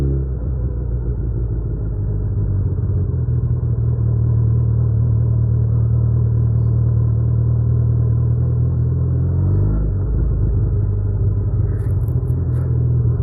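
A Suzuki Hayabusa motorcycle rumbles steadily on a ride past a parking lot, a loud, close, continuous engine drone that shifts slightly in pitch near the end.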